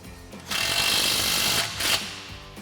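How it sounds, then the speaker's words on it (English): A pneumatic impact wrench fitted with a 17mm socket drives a bottom mounting bolt on a 2007-2021 Toyota Tundra during a Rough Country 3.5-inch suspension lift install, giving one loud, sustained rattling burst of about a second, then a brief second hit. "use our 17mm socket on our impact and our 17mm wrench to tighten down our bottom mounting"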